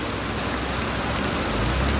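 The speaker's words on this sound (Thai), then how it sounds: "บ่ายสองวันนี้ฝนตก" Steady, heavy afternoon rain pouring down at a house in Ban Na Ang village, Thailand, a dense continuous hiss with low rumbling underneath, loud and close throughout.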